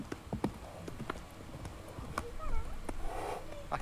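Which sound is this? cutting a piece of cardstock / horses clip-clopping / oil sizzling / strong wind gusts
horses clip-clopping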